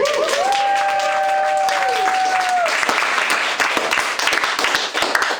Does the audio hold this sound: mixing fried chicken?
no